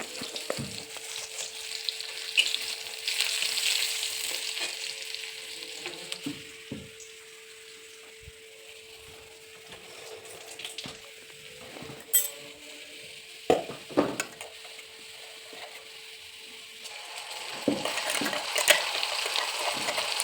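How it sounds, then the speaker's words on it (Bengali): Onion paste, ginger-cumin paste and cumin seeds fry in a little oil, giving a steady sizzling hiss with occasional clinks and scrapes of a utensil against the pan, growing louder toward the end. "এখন দেব পেঁয়াজ বাটা আদা জিরে বাটা একটু জিরে ফোড়ন দিয়ে দিলাম"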